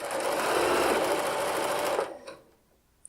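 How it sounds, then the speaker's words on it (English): A sewing machine stitches down a quilt block seam in a steady, close whir for about two seconds, then stops, leaving a few faint handling clicks. "So we have one more seam to stitch down."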